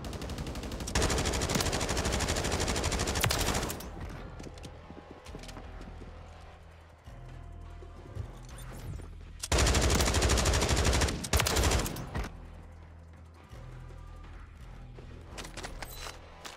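Light machine gun fire from a Bruen MK9 in Warzone 3, with loud sustained bursts in the opening seconds and again around the middle, separated by quieter battle noise and scattered shots.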